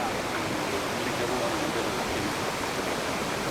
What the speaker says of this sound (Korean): 가끔은 웅대한 폭포로 쏟아져 내리며 옐로우스톤의 그랜드 캐년을 이룹니다.